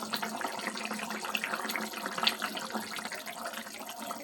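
Green jackfruit, potato and drumstick pieces boil in a small amount of water in a covered pot, a steady bubbling, watery churn filling the whole moment at close range with no voices.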